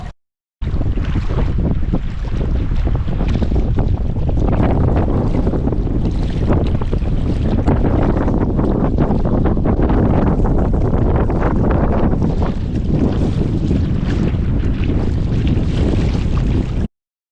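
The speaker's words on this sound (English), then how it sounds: "I'm going to try to give you an idea of what the wind is like." A stiff breeze roars across a Boundary Waters lake in Minnesota on a canoe trip, with heavy wind buffeting and waves washing close by, loud and continuous for the whole stretch before cutting off abruptly.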